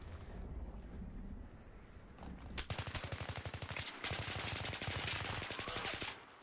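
Rapid automatic gunfire from a Battlefield 3 match: after a muffled, rumbling start, two long sustained bursts of closely spaced shots ring out loud and near, the second heavier and continuing almost to the end.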